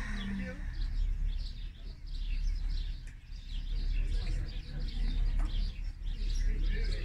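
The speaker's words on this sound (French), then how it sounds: "Les oiseaux chantent à la sérénade." Birds chirp and sing outdoors on Mount Nebo in Jordan, with soft, repeated chirps scattered over a steady low wind rumble throughout.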